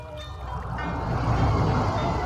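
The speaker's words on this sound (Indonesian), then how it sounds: "kami lebih bisa menikmati suara gemercik air" The Cileer river trickles and gurgles in a steady, dense wash of water noise that swells slightly and holds close and continuous throughout.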